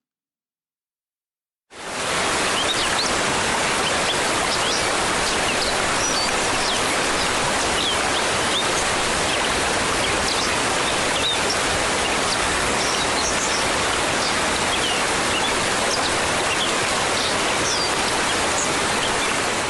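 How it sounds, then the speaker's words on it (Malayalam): Steady roar of the Kuzhuppil Kuthu waterfall in Idukki, a dense wash of rushing water that starts abruptly and holds loud and unbroken throughout, with no voices. "ഈ മനോഹര വെള്ളച്ചാട്ടം"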